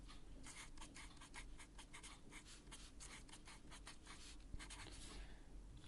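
Pen or pencil scratching steadily on paper while a difference quotient is written out by hand, a close, quiet run of short strokes and taps with no talking.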